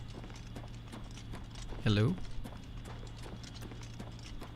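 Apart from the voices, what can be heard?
horse hooves clip-clopping in the video game Oblivion Remastered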